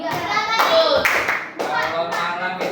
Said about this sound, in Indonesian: Kalau Bapak bilang pagi, tepuk tangan 1.